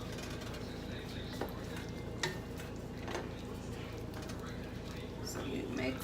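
A spoon stirs pork in green chile sauce in a pot, giving faint, soft scrapes and occasional light knocks against the pot over a steady low background hum.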